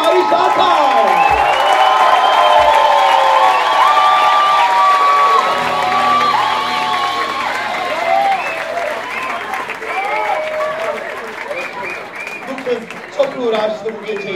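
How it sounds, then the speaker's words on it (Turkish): An audience at a stage performance of songs and poetry claps and cheers loudly, with whoops and shouts over dense applause that slowly thins, while a voice talks over it. "Alkış rica ediyorum."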